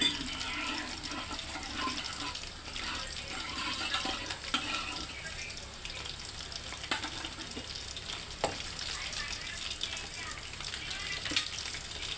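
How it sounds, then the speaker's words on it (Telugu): Water is poured lightly into a pan of cooking red and green chillies, a faint, steady watery sizzle and trickle with occasional small clinks. "లైట్గా కొంచెం వాటర్ పోసుకోవాలండి ఫ్రెండ్స్"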